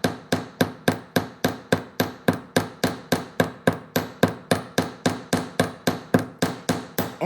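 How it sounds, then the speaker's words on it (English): A hammer strikes wire flat for handmade earrings, about thirty sharp metallic blows in a steady, even rhythm, close and loud with each tap ringing briefly before the next. "I'm going to start hammering and flattening it out."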